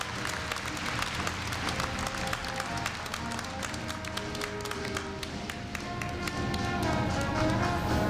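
Applause in a large hall at a Korea University freshman entrance ceremony during a scholarship presentation, steady hand clapping from a big audience over an even murmur of the crowd.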